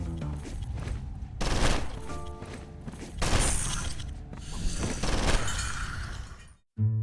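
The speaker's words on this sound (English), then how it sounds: "And occasionally a machine gun." Rapid bursts of machine gun fire and clattering impacts from the game Condemned: Criminal Origins, loud and chaotic in several waves, cutting out suddenly near the end before a brief low thud.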